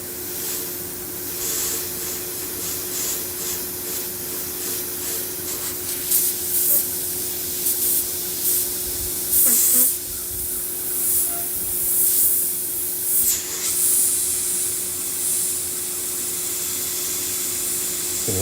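An airbrush sprays paint onto skulls, hissing steadily with a constant tone beneath and louder bursts of spray as the trigger is worked, close and with no talk.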